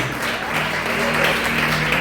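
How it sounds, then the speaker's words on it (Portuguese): A church congregation claps together during a worship service, a steady, fairly loud wash of applause with a faint voice or tone underneath. "A igreja pode aplaudir e glorificar o Rei Jesus."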